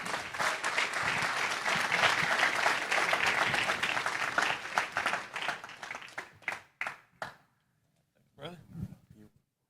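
A live audience at a talk applauds the speaker, a loud, dense burst of clapping that thins into a few scattered claps and stops, followed by a voice speaking alone.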